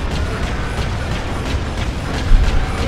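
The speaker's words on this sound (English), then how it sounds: "E to rotate turret" A vehicle turret in Space Marine, a Warhammer video game, grinds as it rotates. It gives a loud, steady mechanical rumble with faint rhythmic ratcheting clicks throughout.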